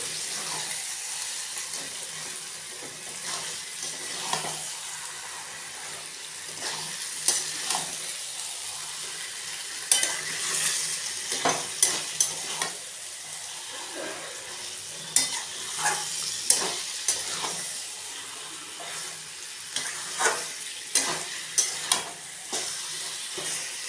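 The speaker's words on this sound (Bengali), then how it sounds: "এবার চিকেনটাকে দিয়ে 10 থেকে 15 মিনিট কষাবো।" Chicken being stir-fried (kasha) in a pan, with a steady low sizzle under repeated scraping stirs and sharp utensil clicks scattered irregularly through the stretch, close and fairly loud.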